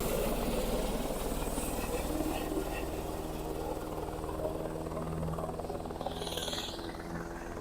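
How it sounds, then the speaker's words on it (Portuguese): A helicopter passes low overhead near an airfield, a steady rotor and engine drone holding loud and close throughout with a faint brightening whine toward the end. "Tem vezes que o helicóptero passa tão em cima aqui"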